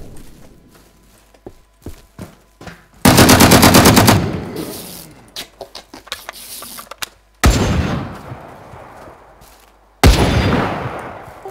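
Gunfire in the online shooter game Will To Live Online: scattered single shots and clanks, then loud bursts of rapid automatic fire that cut in sharply three times and trail off in echoing tails.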